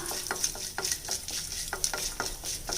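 Cumin seeds and cashews sizzling and crackling in hot oil in a pan, with a steady close frying hiss and repeated stirring scrapes throughout.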